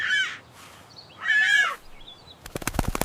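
A crow gives two drawn-out, harsh caws nearby, and rapid wing flaps or clicks follow at the end.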